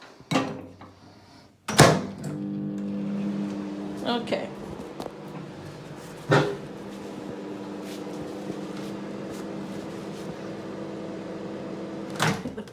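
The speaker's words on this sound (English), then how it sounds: "Now, just for 1 more minute in the microwave." A microwave oven hums steadily through its run after a lid is placed on a pasta dish, with sharp door and cupboard clunks at intervals and a brief spoken word near the start.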